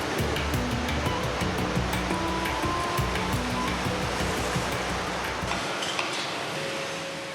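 Large waves crash and wash through a port, churned up by the propellers of a big cruise ship. The roar is steady and broadband with faint clinking, fading slightly at the end, and no one speaks.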